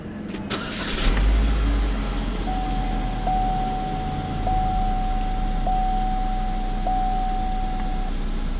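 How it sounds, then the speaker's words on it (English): A Chevy Equinox engine with a stall-under-load fault idles steadily close by, with a brief rise in engine noise near the start from a small throttle blip before it settles back to a steady idle. "A little throttle blip."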